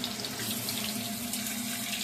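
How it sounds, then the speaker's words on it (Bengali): Potatoes frying in hot oil in a wok, a steady, loud, dense sizzle that holds evenly throughout with no voices. "আলুটা ভাজার জন্য আলুটা তেলে দিয়ে দিলাম।"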